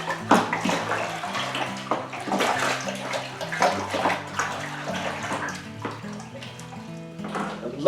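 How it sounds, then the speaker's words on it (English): Liquid sloshing and swirling steadily as parsnip wine must with thin lemon slices is stirred in a brewing bucket, continuous watery churning with no talk. "give it a good stir"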